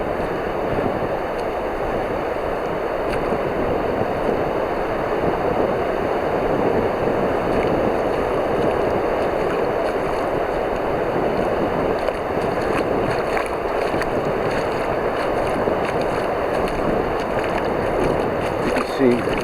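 Ocean surf at North Myrtle Beach rolls as a steady broadband wash with wind buffeting the microphone, continuous and fairly loud throughout, with no clear voices over it.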